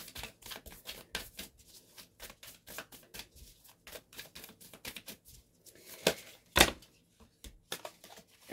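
Tarot cards are shuffled for a reading in a quiet room, a run of quick, crisp riffling snaps and slaps, close and fairly soft, with one louder clack near the end.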